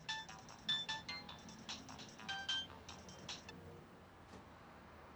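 An unanswered phone ringing in an office, a repeated electronic ringtone in short bursts that stops midway, followed by a brief spoken greeting.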